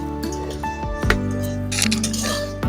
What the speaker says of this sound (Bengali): ডালিয়াগুলো আমি 2-3 মিনিটের মতো ভেজে নেব।